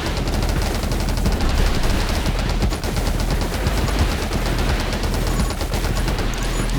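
Continuous automatic gunfire in the video game 20 Minutes Till Dawn, dense rapid shots rattling on without pause, loud and close, with no voices over it.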